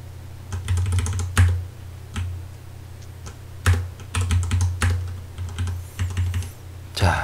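Computer keyboard typing during a Unity3D game-programming lesson: quick bursts of clicky keystrokes separated by short pauses, fairly close and clear over a steady low hum.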